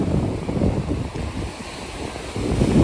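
Sea waves roll and wash onto the broad sandy shore of Sagareshwar beach near Vengurla, a steady close surf roar with gusts of wind buffeting the microphone and no voices.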